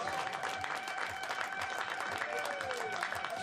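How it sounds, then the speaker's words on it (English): Steady applause from a crowd for the finalists of a junior trap shooting trio gold medal match at the 2025 European Championship in Châteauroux, dense clapping that carries on for several seconds without a break. "applause for our finalists"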